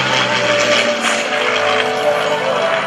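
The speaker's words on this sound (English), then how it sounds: "We hope you've enjoyed watching this rare formation flight of classic and current Air Force aircraft." Rare formation flight of classic and current US Air Force aircraft at a Rhode Island air show, a loud continuous propeller and engine drone overhead with a low steady hum.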